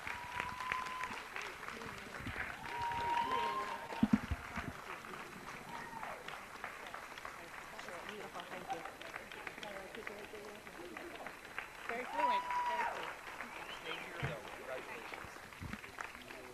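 Audience applause at a school board meeting welcoming an honoree, a steady sustained clapping from a roomful of people at moderate distance, with a few louder claps and murmured voices mixed in throughout.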